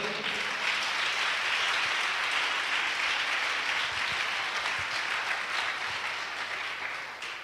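A church congregation applauding during a French-language worship service, a dense, sustained crowd clapping that stays loud throughout and fades slightly at the end.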